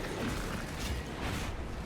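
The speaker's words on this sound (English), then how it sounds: "Reloading magazine." Magazine reload in a Warhammer 40K Space Marine style sci-fi shooter against Xenos: a short continuous run of mechanical clicking and ratcheting at steady level, with faint background din and no talk.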